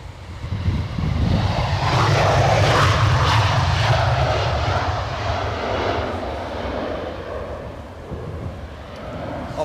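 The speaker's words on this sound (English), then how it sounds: "EasyJet Airbus A320." Loud jet engine roar of an EasyJet Airbus A320 at Edinburgh Airport in strong 40 mph winds, a sustained broadband rumble swelling and then easing slowly as the aircraft passes nearby, with wind noise throughout.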